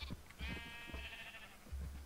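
Sheep bleating in the video game Minecraft, several short wavering bleats in a row, close and clear against a quiet background with no talking.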